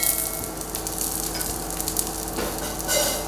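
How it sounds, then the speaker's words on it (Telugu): Green chili and ginger fry in hot oil on a low flame, a dense, close crackling sizzle that holds steady for a few seconds with no talk. "పచ్చిమిర్చి అల్లం లైట్గా వేగితే చాలా, ఎక్కువ అవసరం లేదు"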